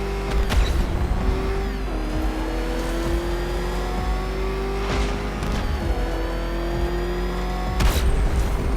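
A car engine in Batman Arkham Knight revving hard and steadily at close range, its pitch climbing and shifting through gears, with brief swooshing passes and tire noise over a continuous drone.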